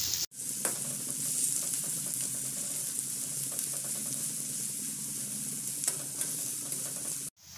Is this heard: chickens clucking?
no